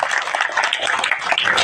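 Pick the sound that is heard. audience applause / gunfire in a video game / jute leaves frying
audience applause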